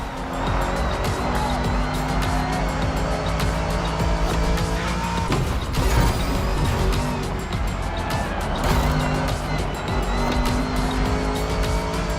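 Ford Mustang GT racing in The Crew Motorfest video game: a loud, steady engine roar with repeated tire squeals, sustained throughout a two-lap race.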